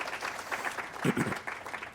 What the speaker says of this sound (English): I want to give him a big round of applause and say thank you